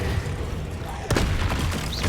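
A Confringo blasting spell goes off in Hogwarts Legacy, a sharp close blast followed by a few rapid booming impacts over game background noise.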